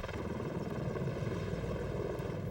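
A V-22 Osprey tiltrotor aircraft hovering and maneuvering, giving off a steady, loud rotor and engine drone with a dense low thrum that holds even throughout.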